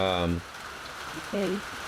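Rain falls outside as a steady, soft patter on surfaces, running under brief bits of a person's voice.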